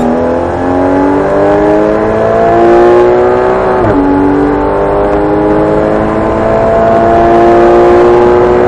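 A Porsche Cayman 718 GTS accelerates hard on a track, its engine revving up through the gears in a loud, close, rising whine, with a brief drop at a gear change before climbing again.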